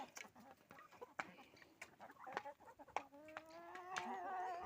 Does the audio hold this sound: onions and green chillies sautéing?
no